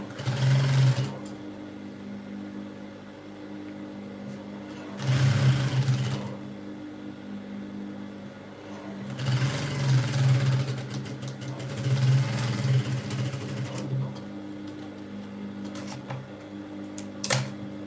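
Home sewing machine stitching pieces of a princess bustier peplum blouse together, running in several loud bursts of steady whirring separated by short pauses.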